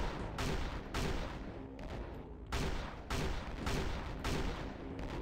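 Shotgun blasts from a shotgunner enemy in Doom 2, a series of loud, heavy booms in an uneven rhythm, roughly five or six shots over a few seconds with a dense rumbling backdrop between them.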